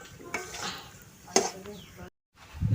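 A mixture is stirred in a pan, with quiet, intermittent spoon scrapes and knocks, a few soft bursts of sizzle, and a brief silence near the end.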